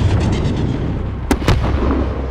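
A loud, sustained battlefield explosion rumbles in Call of Duty: Modern Warfare, with two sharp cracking bursts near the end.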